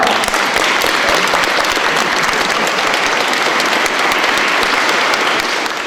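Sustained, dense audience applause after an Oxford-style student debate, a loud, steady wash of many hands clapping continuously for several seconds, with no speech over it.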